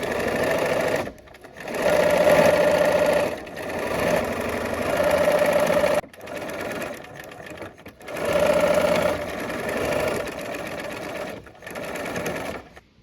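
A sewing machine stitching quilt pieces runs in repeated bursts of steady motor whir and needle clatter, pausing briefly between runs of one to three seconds each.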